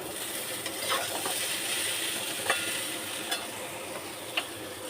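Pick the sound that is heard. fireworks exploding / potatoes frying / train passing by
potatoes frying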